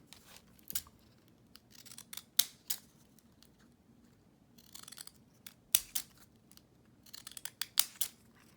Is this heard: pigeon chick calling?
no